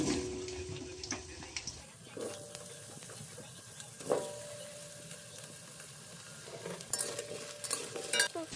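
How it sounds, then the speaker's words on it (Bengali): Potatoes fry in hot mustard oil in a wok, a soft continuous sizzle broken by scraping stirs and occasional utensil clinks, moderately close. "এবার আমি আলুটা ভেজে নেব।"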